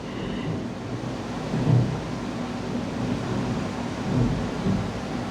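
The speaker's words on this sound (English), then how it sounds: "Let me know if you can hear the thunder." Low rolling thunder under steady rain, a continuous deep rumble with two heavier swells, the second near the end, heard at a moderate distance with soft rain hiss throughout.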